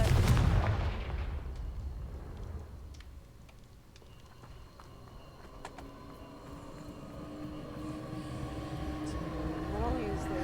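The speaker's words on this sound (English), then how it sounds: "Confringo." A Confringo fire spell explosion from Hogwarts Legacy bursts loud and close at the start with a heavy boom, then fades into a low rumbling crackle and a steady magical hum with game effects.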